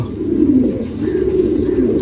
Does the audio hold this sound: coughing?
no